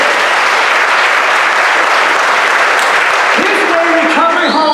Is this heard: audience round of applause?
yes